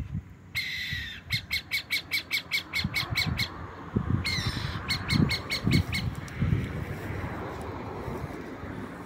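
A pair of burrowing owls calls in daylight beside a highway, giving loud bursts of rapid, harsh squawking notes in two clusters over steady background rumble and faint traffic noise.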